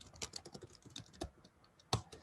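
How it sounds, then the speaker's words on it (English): Typing on a computer keyboard: fast, uneven clicking keystrokes, close and quiet, with a few sharper key hits standing out and no voices. "I'm typing it in."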